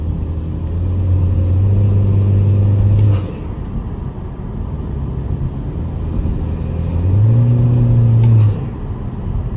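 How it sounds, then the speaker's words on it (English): A 2016–2021 Honda Civic engine revs up twice through its intake, each swell rising in pitch and loudness over a low, steady idle rumble, with no one speaking. "I noticed that my intake has gotten a little bit louder"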